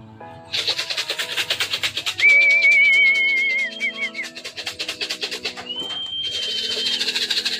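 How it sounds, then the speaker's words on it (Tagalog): Pigeons make soft rhythmic cooing pulses close by, overlaid with a sustained wavering whistle and a second steady tone, continuing throughout. "Ayun mga kalapatids."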